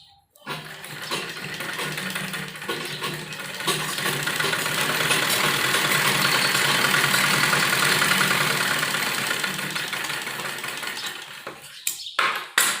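A sewing machine stitches a folded fabric strip for a kurti lining in a continuous run of about eleven seconds, rising slightly in the middle, before it stops with a couple of light clicks.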